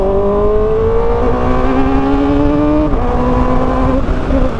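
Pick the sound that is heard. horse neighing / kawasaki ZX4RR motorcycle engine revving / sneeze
kawasaki ZX4RR motorcycle engine revving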